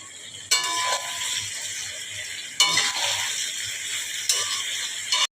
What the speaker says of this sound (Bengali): ভালোভাবে নাড়াচাড়া করে এবারে আমি আদা রসুন বাটা দিয়ে দিলাম